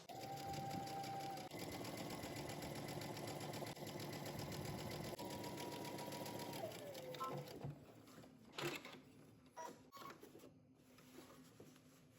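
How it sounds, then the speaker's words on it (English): A sewing machine runs steadily, top stitching blue thread along a jumpsuit seam 3/8 inch from the edge, a loud continuous whir that holds for about seven seconds, then slows and stops, followed by faint handling clicks. "I'm going to go ahead and top stitch 3/8 of an inch from the edge."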